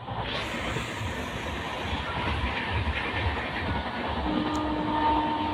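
A fairly empty superfast express train with sleeper and AC tier coaches runs steadily, a loud continuous rumble and wheel clatter heard from inside the carriage, with a faint hiss and no talking.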